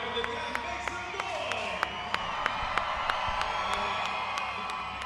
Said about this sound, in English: Wow, this crowd is pumped.